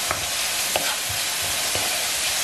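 Garlic fries in a pork rib sauce in a close, steady sizzle, with a few soft stirring scrapes spaced through it.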